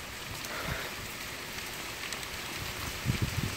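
Steady rain on a freezing morning during a thunderstorm, a constant hiss of drops with a few closer, heavier taps near the end and no talking.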